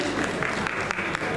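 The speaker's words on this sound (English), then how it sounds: "Rakesh deserves a bigger round of applause right now" An audience at a live partner meet claps in a dense, sustained burst of applause that fills the room evenly.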